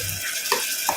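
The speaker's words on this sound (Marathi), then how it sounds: "फोडणी आपली चांगली बघा तेलामध्ये परतून घेतलेली आहे। कांदा चांगला भाजलाय।" Onion tempering fries in hot oil for a Malvani-style chawli usal, giving a steady close sizzle with a couple of soft scrapes from stirring.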